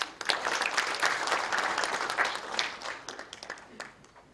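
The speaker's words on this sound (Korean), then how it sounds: "박수로 환영해 주시죠" An audience at a regional regulatory reform forum applauds to welcome the next keynote speaker, a city mayor, with a steady wash of many hands clapping that swells and then thins toward the end.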